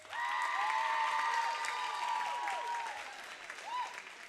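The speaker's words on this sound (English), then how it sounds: "Please give Gabby a round of applause." Crowd applause and cheering for a graduating senior girls' player at a varsity game, a broad clapping wash with whistles and whoops riding over it, swelling early and easing off.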